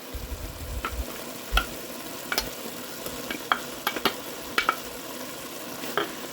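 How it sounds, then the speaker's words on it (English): Garlic frying in a pot for beef stew while being stirred, a soft steady sizzle broken by repeated spoon scrapes and knocks against the pot, close and fairly quiet. "And give it a good stir for about a minute."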